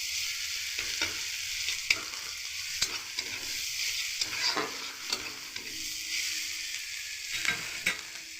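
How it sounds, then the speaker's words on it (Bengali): Grated ginger fries in oil in a pan while making a Punjabi paneer chana masala without onion or garlic, giving a steady soft sizzle with occasional spatula stirs and scrapes, close and continuous. "একটু ভালো করে আদাটা ভেজে নেব, যাতে করে আদার কাঁচা ভাবটা কিন্তু চলে যায়"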